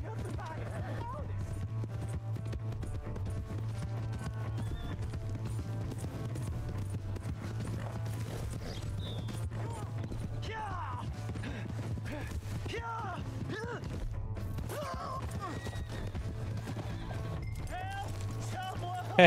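Rhythmic hoofbeats of a galloping horse in the video game Red Dead Redemption 2 pound steadily beneath a low engine-like drone, with occasional voices speaking over it.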